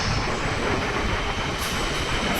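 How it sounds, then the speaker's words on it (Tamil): A train pulls into a station in China, a loud, close, continuous rushing roar of wheels and carriages that fills the whole moment with no voices over it. "ட்ரெயின் வந்துருச்சு."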